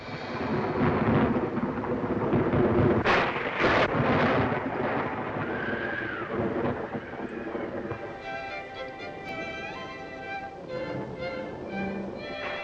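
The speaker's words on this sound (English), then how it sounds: "Well, it's raining out." Thunder rumbles over steady rain in the 1935 film Bride of Frankenstein, with loud rolling peaks early on that settle into a softer storm, while sustained tonal sounds emerge toward the end.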